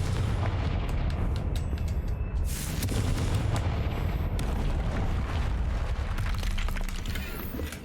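A Confringo fire spell explodes in Hogwarts Legacy, releasing a dense, loud rumbling blast that rolls on for several seconds with deep booming pops, with no voices over it.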